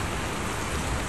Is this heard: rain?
yes